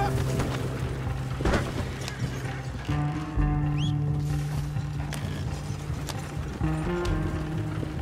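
Hooves of a galloping horse in the Red Dead Redemption 2 video game, a steady clip-clop drumming over a low game soundscape, with a short whinny partway through and no talking.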